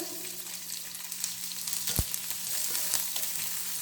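Chicken pieces for a pepper fry sizzle steadily in a hot pan, a continuous close crackling hiss with a brief clunk partway through and no talking.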